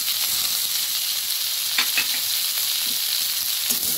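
Spiced cauliflower and potato, salted and coated in turmeric with spring onion, sizzles steadily in a pan while it is stirred, giving a continuous frying hiss with a few soft scraping strokes and no voices.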